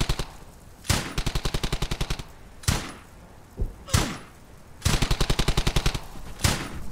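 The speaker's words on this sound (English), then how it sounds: "Don't stop firing! Firing! Unload on those Germans!" World War II combat gunfire in Brothers in Arms: Hell's Highway: rapid, evenly spaced machine-gun bursts alternate with single heavy bangs, all crisp and close, with no voices.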